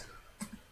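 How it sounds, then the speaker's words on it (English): A single short cough in a quiet room, followed moments later by a softer second burst, both faint and close to the mic over low background hiss. "That was a cough."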